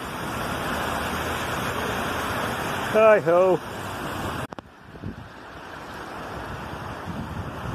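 Swollen river rushing during Storm Eunice at Grammar Lane Bridge in Sheffield, a steady broadband roar of water mixed with wind buffeting the microphone, with a brief voice calling out partway through and a thump before the noise settles slightly.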